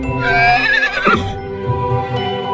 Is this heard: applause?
no